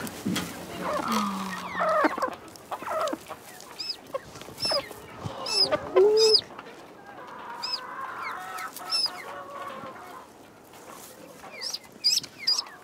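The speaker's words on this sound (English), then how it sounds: "I called the first duckling Jack." Small ducklings peep and chirp in high, bright bursts amid soft clucking bird calls, close by and irregular, with scattered rustling and no talk.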